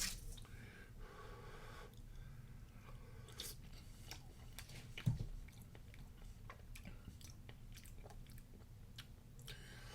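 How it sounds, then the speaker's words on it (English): Someone tastes and chews a spoonful of chili con carne, with soft, faint wet chewing and smacking sounds over a low background hum, one sharper bite near the middle, close and quiet. "Let's go ahead and stir it in and give it another taste."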